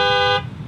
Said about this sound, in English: So yeah, pretty loud horn,